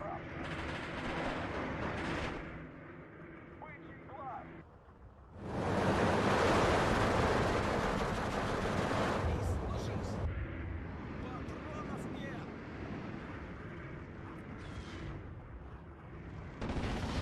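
Mortar fire in the Steel Division 2 war strategy game rumbles through a noisy battlefield, swelling into a heavy, loud barrage midway before easing back to a steady din, with muffled voices in the mix.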